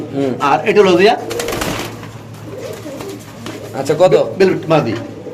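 Pigeons coo repeatedly and close by at a busy pigeon market where white beauty pigeons with chicks are sold, mixed with people's voices talking and bargaining.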